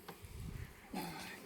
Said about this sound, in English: we're likely to have a lot of bees flying around